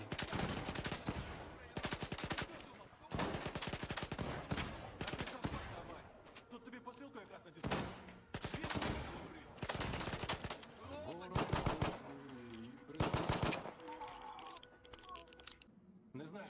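Loud bursts of rapid gunfire in STALKER 2: Heart of Chornobyl, in short volleys separated by brief quieter gaps, with faint background sounds between the bursts.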